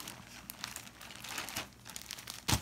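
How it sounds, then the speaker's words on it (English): Plastic packaging crinkles and rustles in uneven bursts close by, ending in a sharper tearing crackle; fairly quiet, no talk. "Today I'm going to be opening a package."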